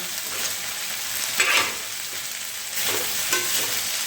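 Okra sizzles and fries steadily on a hot griddle, with occasional scraping stirs rising briefly above the constant hiss.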